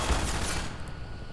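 A long-range weapon fired in Half-Life 2, a loud burst of gunfire at the start that tails off into a fading echo, heard alone without talk.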